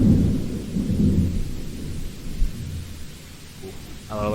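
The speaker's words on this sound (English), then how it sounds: "I really like the sound of thunder, though." Thunder and rain in a Doki Doki Literature Club mod, a deep rolling rumble of thunder that fades under steady rain, with a brief voice appearing at the very end.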